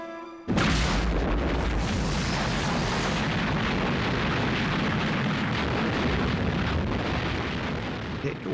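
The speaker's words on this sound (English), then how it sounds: "It was such an enormous barrage. The whole of the eastern skyline behind us was a ripple of light from one end to the other end. Must be 650 guns they are firing." A massive World War II artillery barrage at El Alamein, hundreds of guns firing at once, forms a continuous, thundering roar of overlapping booms that opens with a sudden heavy blast and stays loud for the whole stretch.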